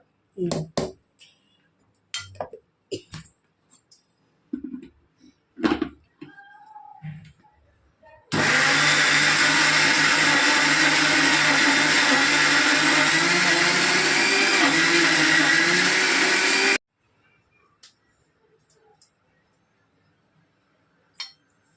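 A mixer grinder runs another round grinding black spice powder, a loud steady whir lasting about eight seconds. Clinks and handling sounds come before it, and brief sounds follow after it stops.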